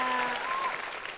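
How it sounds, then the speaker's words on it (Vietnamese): Audience applause for a dance competition pair on a stage show: dense, steady clapping filling a large room, with a faint sustained music tone underneath, heard alone for just over a second. "Tràng pháo tay dành cho ông vua kẹo anh Kiệt và bạn diễn Kim Phụng."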